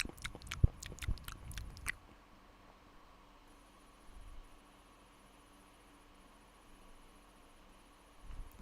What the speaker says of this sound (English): It sounds like chewing to me.